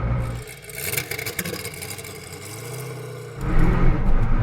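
Hennessey Venom F5 hypercar accelerating hard, a loud, near engine roar that swells and surges, dips briefly, then returns louder at the end.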